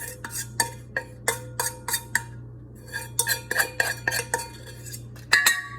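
A utensil scrapes batter for gluten-free garlic bread out of a bowl, producing a quick series of about a dozen sharp clinking scrapes in an uneven rhythm, close and fairly loud.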